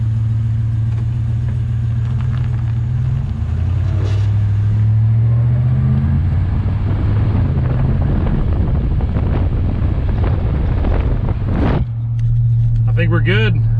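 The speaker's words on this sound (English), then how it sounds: "it drives back on its own power without me having to give it gas" A lowered Chevrolet Silverado pickup rolls along under its own power, a steady low engine drone with wind buffeting the microphone and road rumble, briefly louder midway, while someone talks over it.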